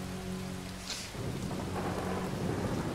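Thunder rumbles through a steady downpour in a video game thunderstorm, a deep roll building under constant loud rain hiss, with no voices.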